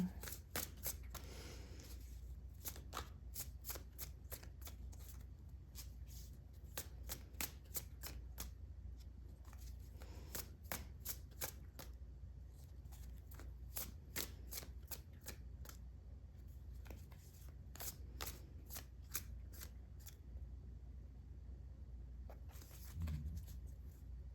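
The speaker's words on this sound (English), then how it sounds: "I'm going to start with some tarot cards, and then I've got some other cards here for you." Tarot cards riffled and shuffled in a long run of crisp, rapid flicks and snaps, close and steady, with short pauses between bursts and no talking.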